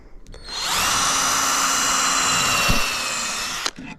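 Power drill boring through a wooden floorboard for a garden shed closet floor, a loud close whine that runs steadily for about three seconds, with a brief bump midway before it winds down.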